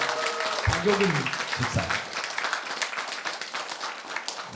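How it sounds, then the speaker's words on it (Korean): Church congregation applauding an elderly woman in her nineties who has returned to worship, steady dense clapping throughout with a voice speaking over the start. "여러분 우리 박수로 한번 쳐주시고"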